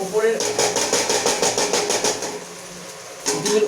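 A spoon stirring eggs in a pan for egg curry, a rapid regular scraping and clinking rhythm up close, pausing briefly before resuming, with a voice talking underneath.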